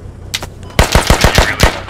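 A machine gun fires a burst of about seven rapid, loud, close shots in the Squad video game, with a faint earlier report just before the burst and no speech.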